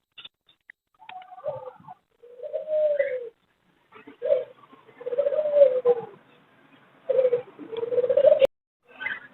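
A breeder pair of grey American pigeons coos at a bird market. The soft, low coos come in several separate bursts with short pauses between them, close by in a quiet setting.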